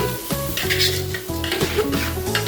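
Polao rice stirred and fried in hot oil gives a steady sizzle, with repeated scraping stirs and light utensil clatter against the pot close by, and no one speaking.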